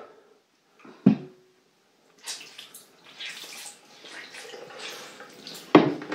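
Water splashing as a washcloth is rinsed, with a short sharp splash, a stretch of running, trickling water and then another splash, close by and heard alone.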